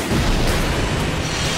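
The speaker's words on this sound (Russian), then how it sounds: "И сейчас взрыв будет, смотрите." A deep, rumbling grenade launcher explosion in Garry's Mod with a sustained roaring blast that fills the whole clip, loud and close, with no voices.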